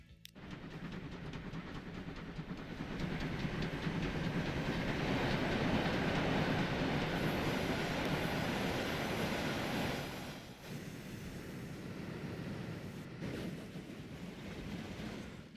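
Trains in Transport Fever 2 rumble along a rail line through a 1860s-era setting, giving a continuous rolling clatter of wheels on track with a fading pass near the end and no talk.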